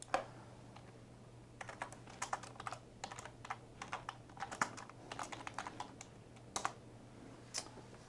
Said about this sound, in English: we'll type in a different address